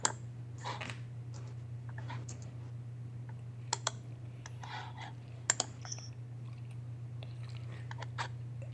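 Quiet, irregular keystrokes on a computer keyboard in a Linux command-line session, the taps scattered and light over a steady low hum, with no voices.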